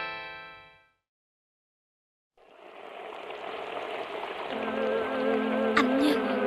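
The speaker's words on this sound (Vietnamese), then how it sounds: "Kìa, Tuyết Minh, em đi đâu mà mưa ướt hết vậy?" Rain falls steadily in an outdoor scene, a broad hissing wash that begins after a brief silence and grows louder, with people's voices rising over it.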